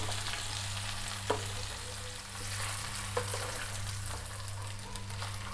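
Cut potatoes sizzle and fry steadily in a pan over a low flame while being mixed, with a few soft spoon scrapes against the pan above a constant low hum.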